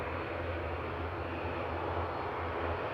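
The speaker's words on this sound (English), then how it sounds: "coming in from Munich, the AIBP, a little A319" Lufthansa Airbus A319 on arrival from Munich at Manchester Airport: a continuous, fairly distant engine hum with a low tonal drone, steady and unbroken, no talk over it.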